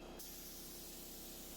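A 3M AccuSpray gun sprays chalk paint thinned with about 23% water onto a dresser being refinished, giving a steady, continuous hiss with no talking.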